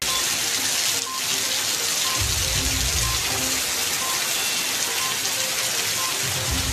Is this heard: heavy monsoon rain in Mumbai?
yes